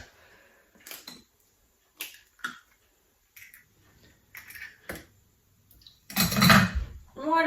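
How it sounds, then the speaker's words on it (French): Eggs cracked one at a time into the small cup of a kitchen cooking robot while making brioche, a few sharp brief cracks and taps spaced apart, then a louder burst of clattering handling near the end. "Donc les œufs, je les casse toujours un par un dans le petit gobelet du high cooking."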